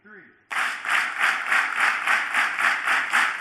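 An audience in a conference hall performs a synchronized power clap, about ten sharp unified claps in steady rhythm, loud and close, after a brief spoken lead-in.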